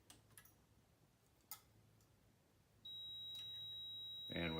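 A multimeter gives a sustained continuity beep while testing a 1974 Fender Bassman 10 amplifier transformer, starting after a few faint ticks and running steadily to the end, with a brief louder clatter at the close.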